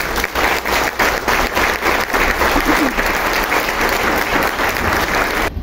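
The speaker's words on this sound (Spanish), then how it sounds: "a quienes debemos recordar con un sonoro aplauso." Loud, continuous applause from the audience at a sustainable development and governance panel forum, a full sustained round of clapping with a faint voice underneath.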